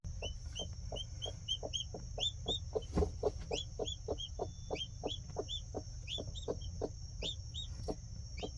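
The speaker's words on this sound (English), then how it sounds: "I am hearing little chirps" Newly hatched chicks peep in a rapid, steady series of high chirps close by, over a low constant hum.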